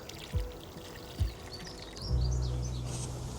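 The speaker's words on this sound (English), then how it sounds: "Just pour some water in there." Room temperature water poured into the tank of an OutIn portable coffee maker; after two soft knocks, a steady close pour with a bright trickling hiss runs to the end.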